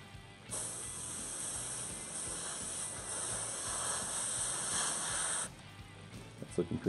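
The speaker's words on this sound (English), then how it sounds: "Now, when I'm spraying behind this, I'm doing this in layers." Airbrush spraying ink behind a tattoo stencil design, built up in layers: a steady continuous hiss running about five seconds, close and even, starting and stopping abruptly with quieter room noise around it.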